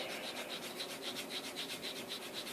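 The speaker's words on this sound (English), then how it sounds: "Sand this smooth a bit." Something being sanded smooth by hand, a steady rhythmic back-and-forth rasping of about four strokes per second, close and continuous with no talk.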